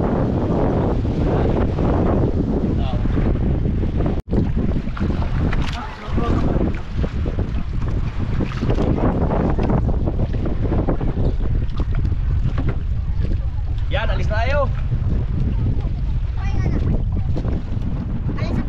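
Strong wind buffets the microphone in a loud, continuous roar, with water and boat noise underneath and brief faint voices.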